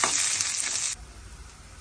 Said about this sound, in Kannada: ಈರುಳ್ಳಿಗೆ 1-2 ಸ್ಪೂನ್ ಎಣ್ಣೆ ಹಾಕ್ಕೊಳ್ಳಿ